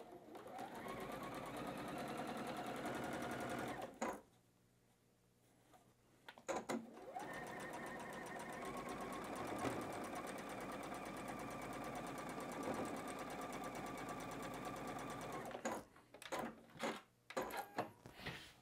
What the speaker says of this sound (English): as you get into that sewing machine, and you're gonna begin. 1/4 inch seam allowance